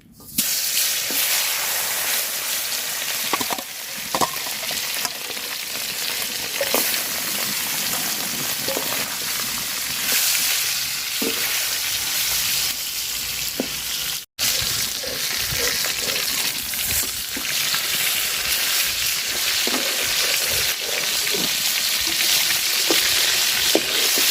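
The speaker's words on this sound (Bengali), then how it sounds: "আমার পাতিলের তেলও গরম হয়ে গেছে মাছ দিয়ে দিলাম" Taki fish coated in turmeric and salt fry in hot oil in a pot, producing a strong, steady sizzle with scattered spits and light stirring knocks, close and continuous apart from one brief cut.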